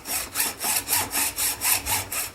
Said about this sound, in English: I'm sure all of you know how to use a hacksaw.